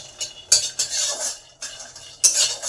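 Peanuts frying in a pan and being stirred continuously, with repeated scraping, rattling strokes of a utensil against the pan in uneven bursts over a light sizzle.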